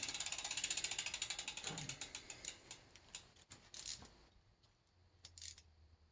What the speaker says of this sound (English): We'll tighten up the low limit screw.